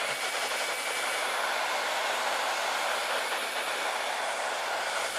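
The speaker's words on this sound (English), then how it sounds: "And then I'm going to hair dryer this." Steady broadband blowing noise, loud and continuous from start to finish, like a hair dryer running close by with no pauses.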